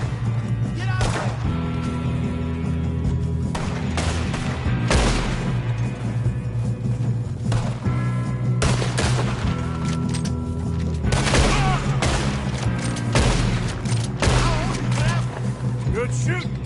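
Gunfire in a Red Dead Redemption 2 shootout against O'Driscoll gang members, with repeated loud shots and thuds bursting over a constant game soundtrack drone, alongside characters' voices.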